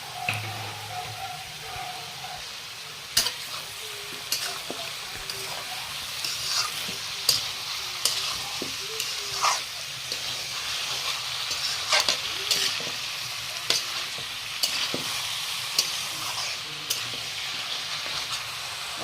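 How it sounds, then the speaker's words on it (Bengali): Jackfruit fries in a pan with whole onions and whole garlic cloves, a soft continuous sizzle broken by sharp stirring scrapes and clinks at irregular intervals, close up and fairly quiet. "এটাতে দেয়া দিব গোটা পেঁয়াজ আর গোটা রসুন এটার লগে ফ্রাই করব"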